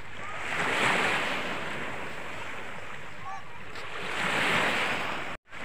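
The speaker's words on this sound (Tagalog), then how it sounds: "At nandito tayo mga idol sa baybayin." Ocean waves wash onto a shore in a steady broad roar that swells twice, with wind buffeting the microphone throughout and no voices.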